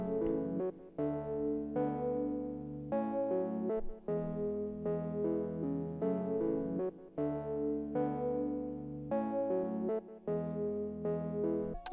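A hyperpop pluck synth plays a bright, repeating melody with reverb and delay tails, the lows cut away, running steadily and loud on its own for about twelve seconds with short gaps between phrases.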